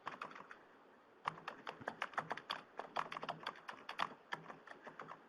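Rapid keystrokes on a computer keyboard during an online webinar, a brief quiet pause and then a dense, irregular burst of close clicks and taps with no talking.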